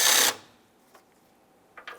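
A ratchet loosens the 8mm bolts holding the headlamp assembly to the body of a 2003–2011 Mercury Grand Marquis: one loud, close burst of clicking, then a near-silent gap and a few soft mechanical taps.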